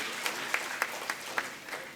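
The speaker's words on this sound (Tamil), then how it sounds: "உண்மையில் அதற்காகவே அவர்கள் 2 பேரைக்கும் பலமாக ஒரு கைத்தட்டல் கொடுக்கலாம்னு கேட்டுக்கிறேன்." An audience at a Tamil literary gathering honouring guests claps in a steady, evenly spaced rhythm of sharp hand claps, moderately loud, with no voices over it.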